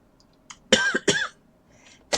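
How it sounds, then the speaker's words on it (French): A woman with a sore throat coughs indoors during a paper box-folding tutorial: two sharp, close coughs in quick succession, a small throat sound before them and another brief cough at the end. "Excusez-moi si je tousse"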